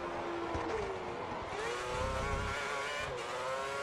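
Formula 1 race cars in the racing game F1 2010 at the Abu Dhabi Grand Prix, a continuous high engine whine that rises and shifts pitch as cars roar past, steady and fairly close.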